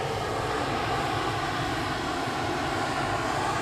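An EasyJet airliner from Amsterdam comes in to land at Edinburgh Airport, its engines a steady, broad roar that holds close and loud without a break.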